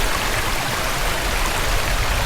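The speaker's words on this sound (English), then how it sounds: "that water sure sounds good" A creek runs over rocks on a forest trail near Sitka, Alaska, a steady broadband rush of water that fills the whole clip, close and loud, with no voices.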